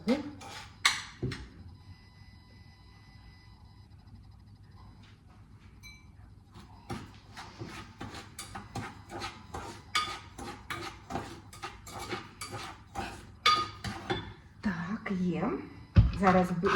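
Sugar stirred in a bowl for a Swiss Engadine nut pie, with scraping and clinking strokes that grow busier and louder in the second half, while a person talks over them.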